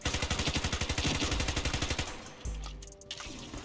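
Rapid automatic fire from a PP90M1 submachine gun in the shooter game Ironsight, a loud steady burst of about two seconds, then the shooting stops and softer game sounds follow.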